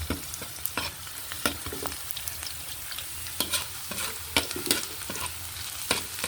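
Garlic and onion sauté in a pan for a goat-head-and-feet sinampalukan, giving a steady close sizzle broken by repeated sharp scrapes and knocks of stirring, with no talk.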